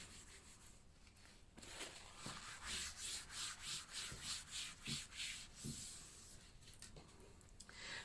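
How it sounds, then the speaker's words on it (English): Cloth rubbing and wiping across a craft desk to clear ink splodges, a steady close scrubbing texture in repeated strokes that grows louder after a quiet start. "I'm just going to quickly wipe down my desk"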